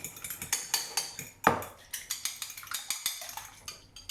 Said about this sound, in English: stir a little bit. Just around for a minute.